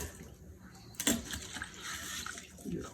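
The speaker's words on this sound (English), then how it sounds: "Drain as much water off as possible." Water splashes and drains from chopped, half-inch-diced apples sitting in lemon juice in a kitchen strainer, with a sharp clatter near the start and a steady running-water hiss that continues to the end.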